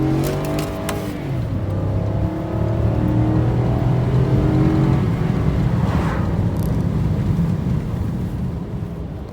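A 2004 Chevrolet Cavalier with a 2.2-liter Ecotec engine and five-speed manual hums and revs steadily nearby, its low drone rising and falling outdoors in light snow.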